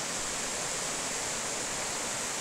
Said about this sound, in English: Boy, it's a beautiful stream.